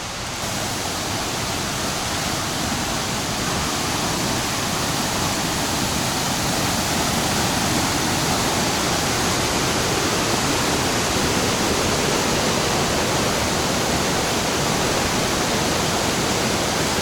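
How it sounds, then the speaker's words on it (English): A waterfall and rushing stream on the Black Forest Trail roar in a dense, steady wash of water, loud and close, with no break. "I'm thinking we're probably right by the waterfall now."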